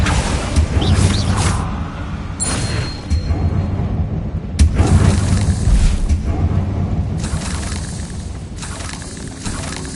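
Blasting-spell explosions in a Hogwarts video game, a series of booming bursts arriving every second or two over a constant rumbling background, each blast sharp and loud before fading.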